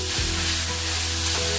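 Jaggery being stirred into a modak filling in a pan, a loud sizzling with scraping stirring strokes, brief and close.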